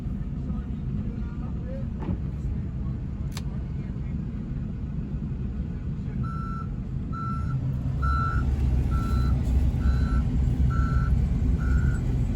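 Snow removal trucks clearing snow on a mountain in Crestline, California rumble under a steady series of reversing beeps, about seven evenly spaced tones in the later half over a low engine drone.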